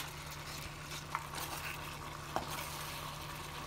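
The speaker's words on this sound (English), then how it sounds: "Okay, so we're going to give this a stir." Jamaican curry chicken being stirred in a pot, a soft steady sizzle and simmer with a couple of brief spoon scrapes against the pot, close and quiet over a low hum.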